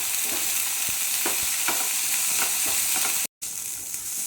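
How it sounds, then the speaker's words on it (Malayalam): Sliced onions sizzle steadily in hot oil while a spoon stirs them toward golden brown, with scrapes and taps against the pan breaking through a constant frying hiss and a brief dropout near the end. "സവാള ഒരു ഗോൾഡൻ ബ്രൗൺ കളർ ആവുന്നത് വരെ ഇളക്കി കൊടുക്കാം"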